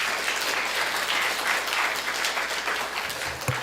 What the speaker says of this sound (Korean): 목사님 나오실 때 박수로 환영해 주시면 감사하겠습니다